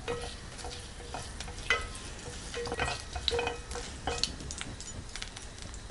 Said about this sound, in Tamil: சுண்டல் தாளிக்கிறதுக்கு எண்ணெய் நல்லா காஞ்சதுக்கப்புறம் 1/4 டீஸ்பூன் அளவுக்கு கடுகு, கடலைப்பருப்பு, உளுத்தம்பருப்பு,